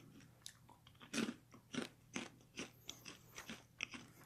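Sugar-coated dalgona popcorn being bitten and chewed up close, a series of sharp crunches and crackles in an irregular rhythm, loud against a quiet background with no talking.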